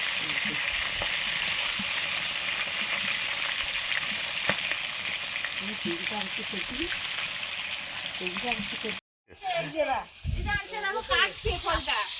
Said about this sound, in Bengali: পুকুরের মাছ ভাজা হচ্ছে